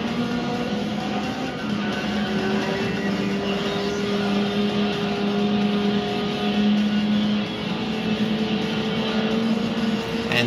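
Honda Integra engine racing in Gran Turismo 3, a steady loud droning roar with sustained engine tones holding at high revs and shifting pitch slightly, with no talk over it.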